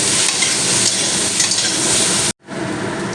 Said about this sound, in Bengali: দিয়ে ভেজে নিতে হবে আলুগুলো